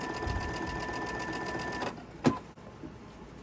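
A sewing machine stitches quarter-inch quilt seams, running in a steady continuous hum for almost two seconds before stopping, then a few faint clicks and handling sounds follow.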